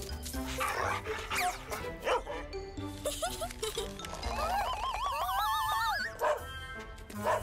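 A service dog in a cartoon barks repeatedly, loud and close, followed by wavering whimper- or whinny-like cries amid lively cartoon sound effects.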